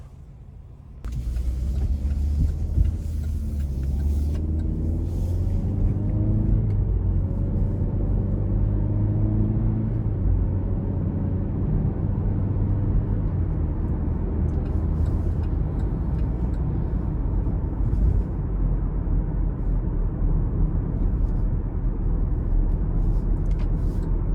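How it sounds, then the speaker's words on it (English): A 2022 GMC Terrain SLT with the 1.5-liter turbo engine and all-wheel drive pulls away and cruises on the road, giving a steady low engine and road rumble with tire noise from inside the cabin. No one speaks. "we're gonna go ahead and take this 2022 Terrain with all-wheel drive out on the road for a quick test drive"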